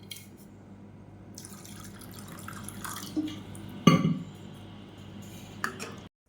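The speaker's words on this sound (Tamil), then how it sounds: "இப்போ வந்து இதில் கொஞ்சம் தண்ணி சேர்த்துக்கலாம்" Water is poured into thick homemade porridge in a pot, a soft running trickle with a few louder splashes and clinks near the middle and end before stopping abruptly, no talking.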